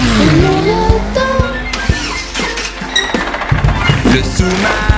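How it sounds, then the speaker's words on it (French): A playful car engine sound effect in a French children's sea-themed song: a gliding revving tone drops and swells, with clicks and mechanical rattles mixed into bouncy music. "Et mon auto."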